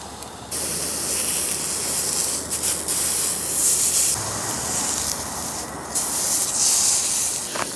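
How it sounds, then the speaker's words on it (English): Steak with onions and peppers sizzles loudly in a portable grill pan over a gas stove outdoors in the cold, a continuous bright hissing crackle that swells and eases with no talk. "Oh, hear that sizzle? That's a sizzling."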